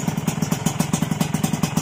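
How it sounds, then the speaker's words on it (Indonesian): An RX King motorcycle engine idles close by with a steady, rapid chugging pulse and a light mechanical clatter, no voices. "Oke mas bro, motor udah hidup."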